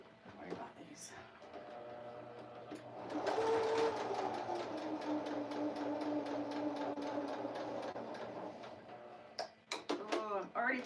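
A sewing machine stitching a straight seam across a quilt on a beach: it starts after a quiet moment, hums with a fast, even needle rattle for several seconds, then stops as a voice briefly sounds.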